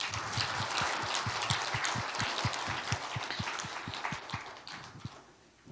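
A church congregation applauds the Gloria choir after a Sunday worship service. The clapping falls into steady, evenly spaced beats of many hands at moderate volume, then fades out near the end.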